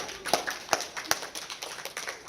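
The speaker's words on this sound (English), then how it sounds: "Let's give Sarah Wright a round of applause." Audience applause at a trip leader training session: a short, thin burst of scattered claps from a small group, several sharper hits standing out, fairly quiet and brief.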